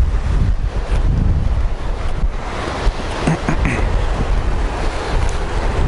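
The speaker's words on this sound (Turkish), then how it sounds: "Dalga çok çünkü." Sea waves breaking on the shore at Kıyıköy, a loud continuous surf roar with heavy wind buffeting the microphone throughout.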